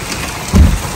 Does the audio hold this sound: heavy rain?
yes